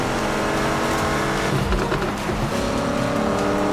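A car in a demolition derby video game circles the arena, its engine droning continuously while tires squeal and skid through the turns, loud and unbroken with no talk.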